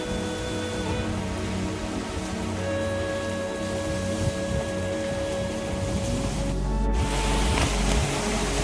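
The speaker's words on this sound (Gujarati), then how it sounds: "અત્યારે ખૂબ વરસાદ ચાલી રહ્યો છે" Heavy rain pours down steadily near a Chamunda temple in Valsad, a loud continuous wash of drops hitting surfaces, with a brief louder burst of splashing toward the end and no talking.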